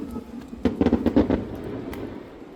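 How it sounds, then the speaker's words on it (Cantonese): Fireworks at a beach resort in Shuangyue Bay, Huizhou, crackle in a rapid cluster of popping bursts at a distance, then fade into a faint hiss and scattered pops. "嗰邊啲煙花好勁啊！ 哇，好大聲"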